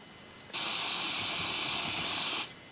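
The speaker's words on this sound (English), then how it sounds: "And some instant activator" Instant glue activator sprays out of an aerosol can in one steady hiss lasting about two seconds, close and loud, during repairs to the base and cabinet of an antique Singer treadle sewing machine.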